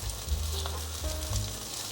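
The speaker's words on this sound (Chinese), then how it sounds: "锅内放入适量的油，油有微微的热就可以放进来煎" Vegan potato cakes made with shiitake mushroom fry in a little hot oil in a pan, giving a steady close sizzle with a low hum underneath and no voices.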